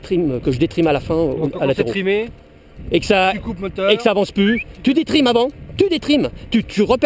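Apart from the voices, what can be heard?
No distinct noise like a dog, phone or traffic.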